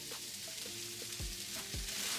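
Broccoli and mixed vegetables with adobo seasoning and black pepper sizzle steadily in a pan, with a couple of louder scraping stirs partway through; no one talks.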